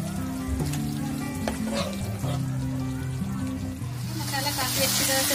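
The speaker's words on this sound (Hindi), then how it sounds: "मसाला काफी अच्छी तरह से भून चुका है," Masala with yogurt fries in a pan for lauki kofta, giving a continuous, moderate sizzle that swells toward the end, with soft background music underneath.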